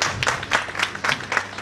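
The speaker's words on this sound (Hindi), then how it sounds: "एक बार जोरदार तालियां।" An audience at a poetry gathering claps together in rhythmic bursts of applause, steady and fairly loud, with no talking over it.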